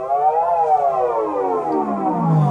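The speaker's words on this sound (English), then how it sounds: "you can hear the familiar 1 octave swing of a pitch being generated by the Common" Analog synthesizer tone swinging a full octave in pitch under a common LFO, a bright, buzzy note rising briefly then gliding slowly downward like a siren, loud and sustained with no talk.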